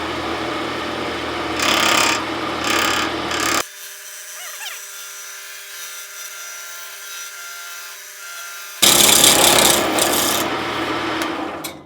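Close wood-lathe cutting on a pen blank spinning at fast RPM, a scraping, rasping tool-on-wood sound in short bursts, broken by a long quieter stretch of motor hum before the cutting resumes loudly.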